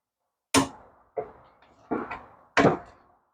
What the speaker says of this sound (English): Now we'll cut that little taper off that we made.